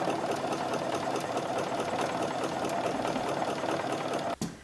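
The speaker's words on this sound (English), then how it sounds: "I'm just straight stitching at the sewing machine." A sewing machine runs at a fast, even stitch rhythm, loud and close, then stops abruptly with a short clunk.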